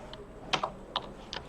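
A few quiet keystrokes on a computer keyboard during an MS Word lesson: four or five separate taps in an uneven rhythm, close and fairly soft, with no voices.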